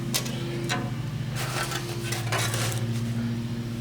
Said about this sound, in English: Now we can take our floor pan out,